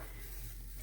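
A low carb pancake sizzles in a pan, giving a steady, faint hiss of frying with no voice over it.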